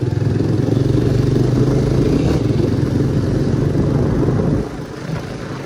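A scooter engine idles steadily up close with a rough, throbbing rumble, then drops to a quieter tone near the end.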